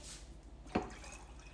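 Chicken broth poured into a glass canning jar of beans, one brief liquid splash and gurgle in the middle of an otherwise quiet moment, close and clear, with no talking.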